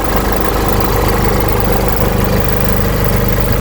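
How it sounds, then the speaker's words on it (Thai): A 2022 Isuzu V-Cross 3.0 Z 4x4 pickup with its 190-horsepower 3.0-litre diesel idles close up, a loud, steady, even drone with no revving and no voices. "เครื่องเดินนิ่งมากเพื่อนฟังนะ"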